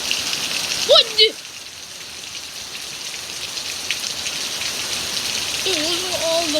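Steady rain falls on a driveway during a wind storm, a constant soft hiss throughout, with a brief voice exclamation early and more voice near the end.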